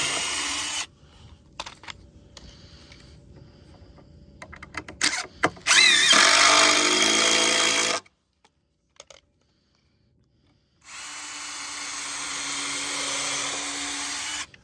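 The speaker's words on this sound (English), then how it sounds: "I'm drilling all these holes because it's hardwood." A power drill bores holes into hardwood for a sawhorse build, with a short whining burst, a longer loud run that stops abruptly, then after a quiet pause another sustained drilling run, close and alone.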